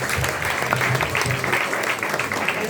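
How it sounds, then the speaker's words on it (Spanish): Steady applause from an audience at a Sant Jordi book event with a writer at the Casa de Melilla in Barcelona, dense continuous clapping that holds level for a few seconds with no voices over it. "Un aplauso a la juventud."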